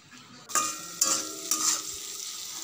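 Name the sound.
frying potatoes and papad in a pan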